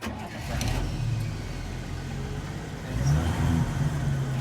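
A 1965 Chevy C10 engine cranks and catches, settling into a steady low rumble close by that swells slightly near the end.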